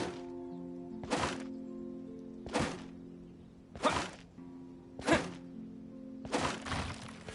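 Training dummies smashed in the video game Genshin Impact: five heavy thwacking impacts spaced roughly a second apart, each a sharp broadband crack with a short thud, over steady game music.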